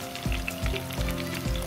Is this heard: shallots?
yes